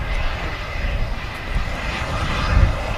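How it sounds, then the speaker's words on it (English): An aircraft at Manchester Airport gives off a steady, broad engine roar that holds evenly throughout, fairly loud and with no voices over it. "Stunning aircraft."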